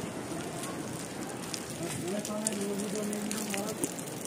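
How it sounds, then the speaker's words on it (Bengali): Steady rain falls outdoors in a continuous hiss, with a faint tonal hum and occasional drips, while a voice talks partway through. "পুরো বৃষ্টিতে পুরো ভিজে দিচ্ছে।"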